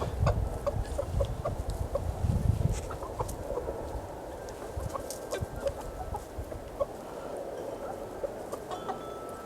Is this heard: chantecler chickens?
yes